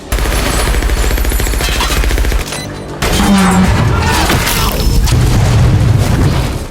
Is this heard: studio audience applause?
no